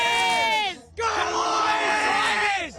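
Fans at the AFL Grand Final parade in Melbourne cheer and yell together in a loud, close burst, broken by a brief lull before the shouting swells again.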